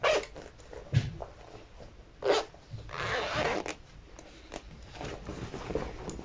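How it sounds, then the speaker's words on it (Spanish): A zipper pulled open on a freshly sewn fabric cushion cover, a close, raspy sliding burst lasting about a second amid soft handling rustles. "la cremallera"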